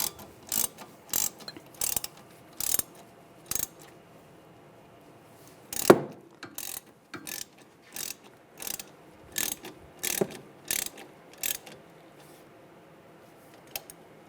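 Ratchet tightening the front brake caliper bolts on a 2006-2009 Mercedes-Benz E350, heard as bursts of quick clicking strokes separated by pauses, with one louder metallic clunk midway, close and with no talking.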